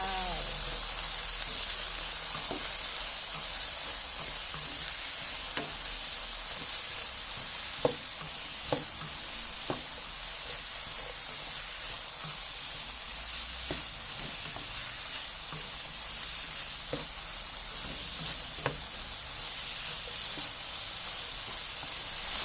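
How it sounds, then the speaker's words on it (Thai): Asparagus and pork sizzle steadily in a pan as a mixed sauce goes in, with intermittent scrapes and taps of a spatula stirring through a constant hissing fry. "ตามด้วยซอสเลยจ้าผัดลงไป"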